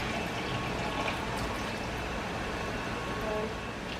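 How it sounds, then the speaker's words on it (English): Two cups of filtered or spring water pour into a blender jar over honey, a continuous soft splashing and gurgling fill lasting a few seconds at close range. "add in your 2 cups of filtered or spring water"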